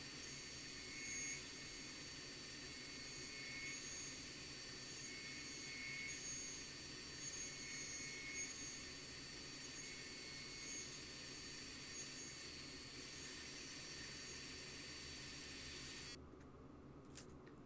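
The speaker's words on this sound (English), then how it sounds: "And then we throw it up on the CNC," A CNC machine flattens a walnut and epoxy charcuterie board, giving a constant, even, high-pitched whine with broad hiss that runs unbroken and then drops off near the end.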